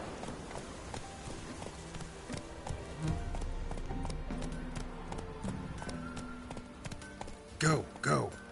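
Horse hooves clip-clop at a steady gallop in The Witcher, a rhythmic run of close hoofbeats under game music and ambience, ending with a couple of louder sounds near the end.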